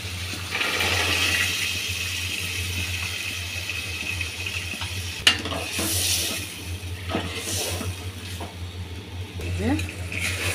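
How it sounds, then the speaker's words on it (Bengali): Broad bean seeds sauté in a pan with mustard and green chilli paste, making a soft, steady frying hiss over a low background hum, with one sharp clink from a utensil partway through. "সিমের বিচিগুলো 2-3 মিনিট কষানো হয়েছে।"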